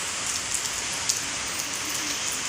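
Heavy rain falls steadily in a village, a dense, even hiss of drops on surfaces with a few louder nearby splashes and no voices.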